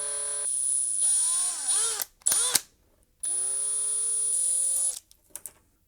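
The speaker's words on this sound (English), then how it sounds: "we could try to drill and enlarge those holes" A small power drill bores out holes in a vintage GPU's switch mounting, whining in two long high-pitched runs, the second one level and steady, broken by short bursts and then a few faint clicks.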